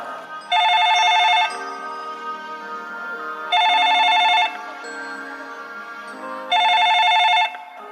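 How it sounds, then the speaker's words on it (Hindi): A telephone rings in three bursts separated by pauses, clear and fairly close, over a quiet background hum. "इस प्रकार 7-8 बार फोन की घंटी बजने पर"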